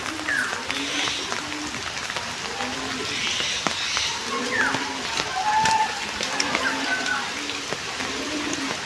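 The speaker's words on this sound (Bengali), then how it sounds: "এই হলো বৃষ্টির অবস্থা।" Rain falls steadily outdoors in a village, a soft continuous patter on surfaces with scattered drips, moderately close, while distant voices and faint bird calls come and go in the background.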